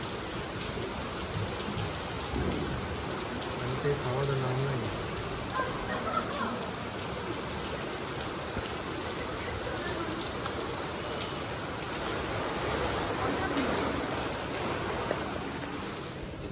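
Steady heavy rainfall pours continuously, dense and close, with a brief voice speaking over it.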